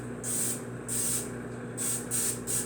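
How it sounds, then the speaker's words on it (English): Cooking spray hissing onto a disposable 13 by 9 baking pan, several short bursts, one longer burst, then three quick ones, close and fairly quiet. "I'm going to give this a quick spray."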